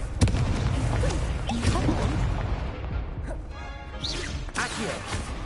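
Explosive Confringo spell cast in Hogwarts Legacy, a burst of crashing impacts and booms amid continuous game effects, with a bright whooshing flourish near the end.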